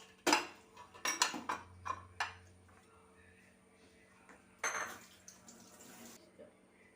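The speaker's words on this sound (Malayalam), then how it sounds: "ഇതിലേക്ക് നമുക്ക് പുളിവെള്ളം ഒഴിച്ചു കൊടുക്കാം" Tamarind water poured into a bowl while making red chutney for homemade pani puri: a few quiet clinks and taps of kitchenware, then a short splashy pour of liquid, all faint and close.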